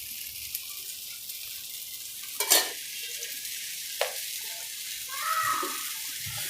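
Oil sizzles steadily and quietly under a pan of corn bhel puda, a continuous frying hiss with a couple of sharp scraping clicks.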